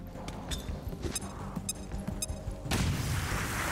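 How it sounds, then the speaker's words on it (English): A grenade explosion in XCOM: Chimera Squad, a burst of loud booming blasts that gives way to a sustained roaring rumble, heard alone without talk. "Throwing grenade!"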